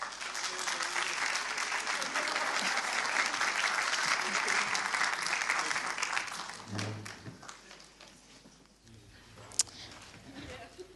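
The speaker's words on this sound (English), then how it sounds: "Give them a round of applause." A church congregation applauds the band with a broad, steady round of clapping that fades out after several seconds, leaving quieter room sounds and a brief voice.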